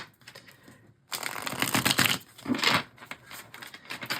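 A Halloween tarot deck is shuffled close by in one brisk burst of riffling, papery card flutters and slaps that continue in smaller rustles and taps.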